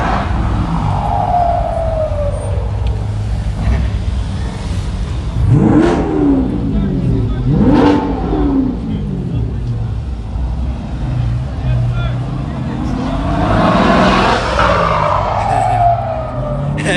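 Truck with an unusual rear-exit exhaust revs loudly during a Saturday night car cruise in Denver, Colorado; several swelling engine roars rise and fall over steady street traffic, with people talking nearby.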